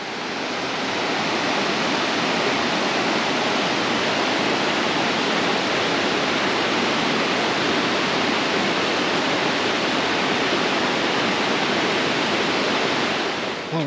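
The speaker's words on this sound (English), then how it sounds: "So just crossing the El Rio de Costarena." Loud, steady roar of the rushing Verzasca River heard up close while crossing it, a constant wash of turbulent water throughout.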